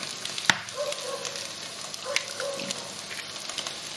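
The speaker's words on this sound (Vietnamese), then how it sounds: "Chiên cho đến khi mình nhìn thấy xung quanh miếng đậu hũ vàng hết rồi" Tofu pieces frying in oil in a pan, a steady soft sizzle running throughout with a couple of sharp pops near the start and middle.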